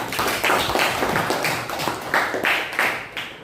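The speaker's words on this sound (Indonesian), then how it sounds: "Tepuk tangan buat kita semua." Children in a classroom clap for one another, a brisk, fairly close patter of hand claps in uneven pulses, with no voices over it.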